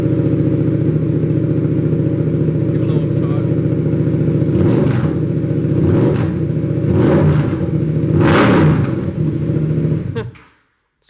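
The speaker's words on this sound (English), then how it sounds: "And he has the Black Widow exhaust on there, which sounds so super mean." A 2019 Yamaha MT-07 motorcycle with a Black Widow exhaust runs loud and close in a garage, idling with a steady throb and blipping the throttle several times before shutting off abruptly.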